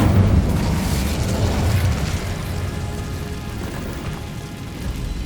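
An Incendio fire spell goes off in Hogwarts Legacy, a loud, dense roaring rush of flame that fills the space and stays strong for several seconds before easing slightly, with no one speaking.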